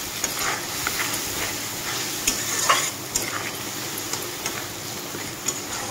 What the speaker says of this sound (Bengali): তো মশলাটাকে আমি ভালোভাবে মিক্স করে কষিয়ে নেব।